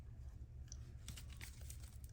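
Tarot cards being shuffled give quiet crisp riffles and flicks close to the microphone, with a cluster of sharp papery bursts in the second half over a low background hum.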